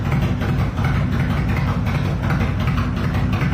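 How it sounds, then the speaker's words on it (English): A Honda VTX motorcycle engine idles steadily while warming up on a cold day, a low, continuous rumble with an even loping pulse, close and fairly loud, with no talking. "Bike's warming up."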